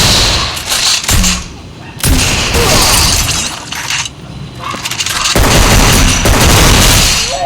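Gunshots and booming blasts in Free Fire Max, loud and dense, with shattering impacts and a continuous roar of game sound and a voice talking over the action.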